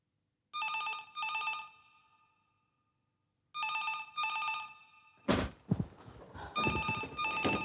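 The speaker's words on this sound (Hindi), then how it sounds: "मैं अभी देख कर आती हूँ किसका फोन है" An old-style telephone bell rings loud and close in two double bursts with a pause between, followed by shuffling footsteps and movement noises.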